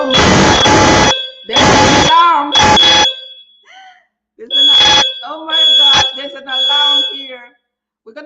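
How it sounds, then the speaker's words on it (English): An indoor alarm blares in loud repeated bursts of steady high tones, sounding in long on-off pulses over about eight seconds, with people talking between and over the blasts. "Sorry, there's an alarm."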